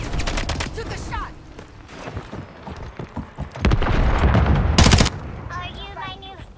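Black Ops 6 beta gunfire, repeated automatic bursts and single shots with a very loud close volley in the middle, mixed with brief snatches of talk.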